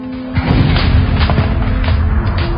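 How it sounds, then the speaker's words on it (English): Heavy booming discharges of many guns firing in battle, loud and dense, forming a continuous rumbling roar with repeated deep thuds over about two and a half seconds. "the overwhelming noise from all the guns discharging"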